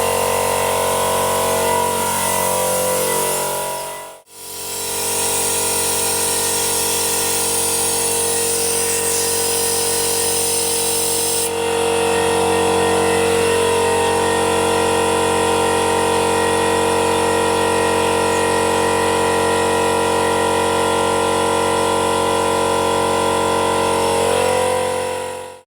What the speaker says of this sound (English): it's a bit noisy with the compressor on